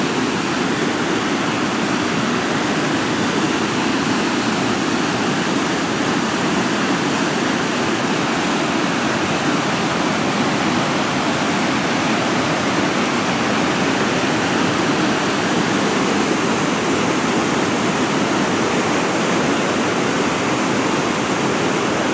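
A waterfall roars steadily in a river gorge, a dense, constant rushing wash of water that stays loud and unbroken throughout with no voices.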